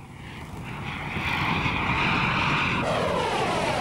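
A 22-horsepower engine on a 12-kilogram model aircraft drones steadily, its whine rising in pitch as it passes fairly close, loud and continuous with no voices.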